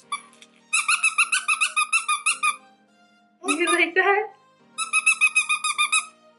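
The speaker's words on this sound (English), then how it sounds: "And then this thing squeaks." A rubber baby teething toy squeaks in quick rhythmic bursts of sharp, high squeals, in three clusters separated by pauses, with a short adult remark spoken between them.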